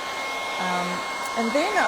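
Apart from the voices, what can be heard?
hair dryer drying embossing paste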